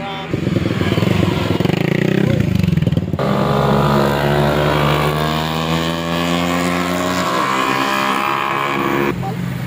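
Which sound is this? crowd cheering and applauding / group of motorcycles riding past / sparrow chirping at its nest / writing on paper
group of motorcycles riding past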